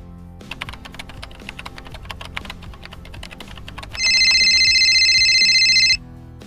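Inside Sakura School Simulator, rapid keyboard-like tapping clicks along before a phone's loud electronic ringtone trills steadily for about two seconds, then cuts off.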